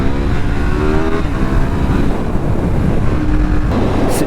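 A KTM 990 Duke motorcycle engine accelerates hard on a test ride, its steady loud roar rising in pitch. Heavy wind rush buffets the microphone throughout.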